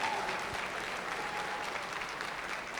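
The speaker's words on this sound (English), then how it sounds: "Mona clap for me." A live comedy-show audience in Enugu claps for a comedian, a continuous, fairly distant wash of applause with crowd murmur underneath.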